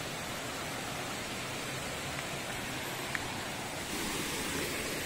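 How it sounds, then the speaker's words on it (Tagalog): Pangabitkabiton Falls in Jamindan, Capiz rushes below in a broad, steady wash of white noise, the constant roar of falling water heard from nearby with no voices. "So ayan po, yung falls sa ilalim."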